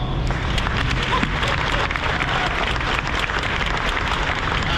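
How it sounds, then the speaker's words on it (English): Corvette assembly plant workers in Bowling Green applauding, a dense, sustained roar of many hands clapping at once with cheers mixed in, loud and continuous. "please give yourselves a resounding applause"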